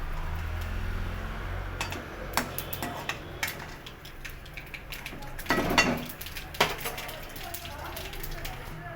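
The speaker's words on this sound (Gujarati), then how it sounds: "રાઈ બરાબર તતરી જાય" Mustard seeds splutter in hot oil as scattered sharp pops and crackles, irregular and close, over a faint low hum.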